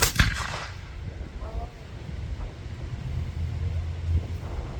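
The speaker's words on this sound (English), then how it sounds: "that's how a soldier would load and fire his weapon while being trained to do it by command" A soldier fires a weapon in a training demonstration at a battlefield park, a single sharp loud report at the very start followed by fading rumble and windy outdoor noise.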